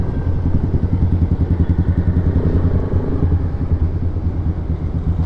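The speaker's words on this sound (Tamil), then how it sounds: "ஷார்க் மவுத் சைலன்சர், அதனால சவுண்டு செம்மையாக இருக்குது." A Royal Enfield Classic 500 motorcycle with a shark mouth silencer exhaust idles nearby with a loud, rhythmic low thumping that stays steady throughout.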